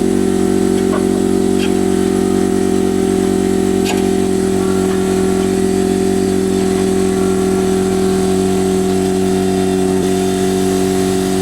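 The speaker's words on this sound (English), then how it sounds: "I'm actually going to use the air compressor for this" An air compressor runs steadily beside a jacked-up Ford F150 during a coil spring install, a loud continuous mechanical hum with no talking.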